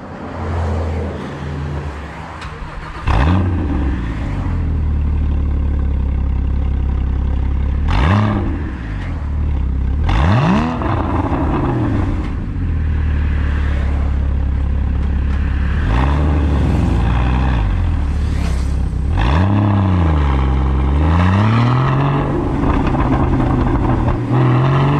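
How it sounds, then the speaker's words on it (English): Loud Porsche GT4 exhaust roaring through repeated accelerations, revs climbing then dropping between gear shifts, close and continuous throughout. "let's hope for a good exhaust noise just down there,"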